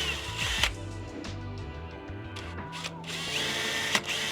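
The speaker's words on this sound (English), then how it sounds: "we will go ahead and pretty much drill more on that line" Power drill boring a mounting hole through a plate for an EMF circle running light on a Surron, whirring steadily up close with short bursts and pitch shifts as the bit bites.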